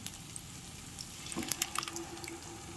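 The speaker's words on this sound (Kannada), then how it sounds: "ಇದಕ್ಕೆ ಸ್ವಲ್ಪ ನೀರನ್ನು ಸೇರಿಸ್ಕೊಳ್ತೇನೆ" Water poured from a tap into a pan of cooked peas and potatoes with fried onions, a short quiet trickle and splash at close range with small drips, no talking.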